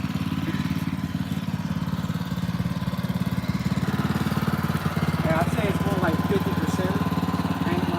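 Small engine of a parking lot striping machine running steadily at close range, a loud continuous drone with a rough, pulsing idle throughout, with voices talking over it.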